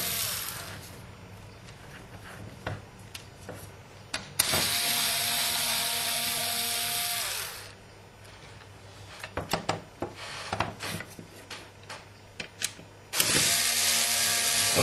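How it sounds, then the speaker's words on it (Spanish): Screws on the top lid of a hard drive enclosure are loosened with a screwdriver, producing close scraping and ratcheting turns, with long harsh rasping stretches alternating with short clicking bursts. "Procedemos y aflojamos los tornillos"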